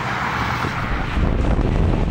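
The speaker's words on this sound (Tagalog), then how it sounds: "Tila sumasayaw ang mga puno sa lakas ng hangin sa pasukin Ilocos Norte." Strong storm wind roars steadily outdoors in Ilocos Norte, with trees tossing in the gusts. The rush is loud, continuous and broadband, with low buffeting from the wind hitting the microphone and no voices.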